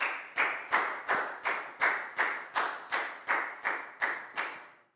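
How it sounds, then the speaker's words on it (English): A Year 4 maths class claps for a student in a fast, evenly spaced rhythm of about a dozen sharp, reverberant claps, each ringing briefly before the next, with no talking over it. "Big round of applause for Lakgao"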